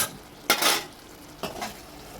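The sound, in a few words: gongura paste stirred into prawn curry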